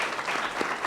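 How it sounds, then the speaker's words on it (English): Steady applause from an audience of teachers at a school board meeting, a dense continuous patter of many hands in a room. "the applause behind me, these are teachers"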